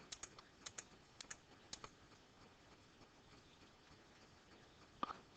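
Light, faint keystrokes on a computer keyboard while entering a plus sign into a formula, a short cluster of quick taps followed by a pause and a couple more clicks.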